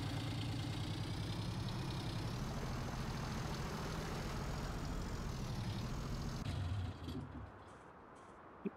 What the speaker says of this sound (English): We'll use one of the tractors we just bought